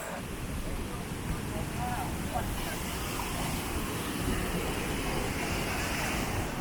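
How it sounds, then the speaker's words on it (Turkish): Steady, broad rushing roar of Manavgat Waterfall in Turkey, constant and fairly distant, with a faint voice in the background. "İşte karşımızda Manavgat şelalesi."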